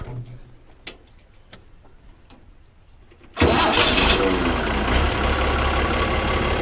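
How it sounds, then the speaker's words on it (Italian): A few soft ticks, then the engine of a Fiat 1000 DT Super tractor cranks and catches abruptly, settling into a loud, steady diesel idle. "Bene, adesso accendo il trattore."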